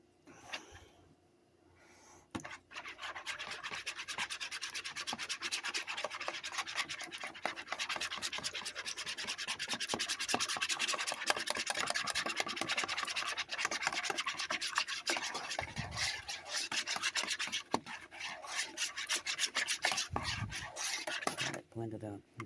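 Bread pudding mixture with sweetened condensed milk being whisked in a bowl, with rapid continuous scraping and rubbing strokes, close and fairly loud, after a brief quiet start.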